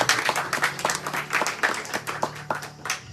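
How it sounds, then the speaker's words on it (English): An audience at a community gathering with a children's organization breaks into a round of applause, dense clapping sustained across the whole stretch with rhythmic peaks, fairly close and lively. "Give them a round of applause."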